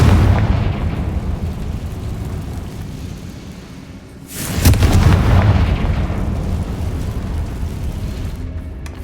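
A Confringo spell explosion in the Hogwarts Legacy video game: a single loud blast bursts out of a low ambient hum and decays into a lingering rumble.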